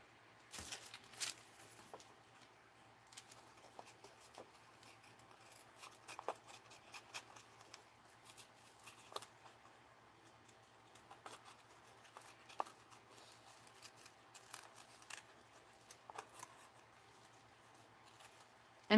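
Scissors snip around a paper figure in close, quiet fussy cutting for a mixed-media craft project, giving a steady run of small crisp cuts and rustles over a low constant hum.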